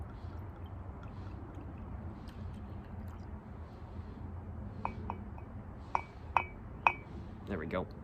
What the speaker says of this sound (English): Let's go and pour some in my glass